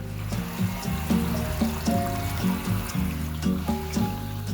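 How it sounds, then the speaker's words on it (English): Greywater drains through cabin piping into a water tank as a steady, full rush of flowing water, with a rhythmic gurgling pulse repeating about every second. "hopefully hear it draining into this water tank"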